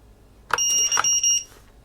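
Telemetry alarm from a Taranis X9D radio transmitter set for a quadcopter's low voltage: a short series of close, clear electronic beeps with steady tones, about a second long, in a quiet room.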